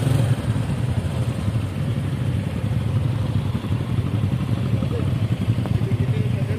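Steady low engine drone from several idling motorcycles at a busy entrance, with crowd chatter and a speaking voice running throughout.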